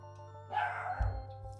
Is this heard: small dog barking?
yes